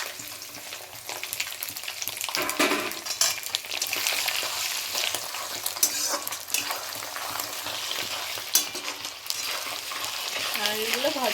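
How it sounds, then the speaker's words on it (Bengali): Grated coconut stir-fried in a pan for a Bengali dish, a steady close sizzle with scraping spatula strokes throughout, no talking. "এবার নারকেলগুলো দিয়ে দিচ্ছে।"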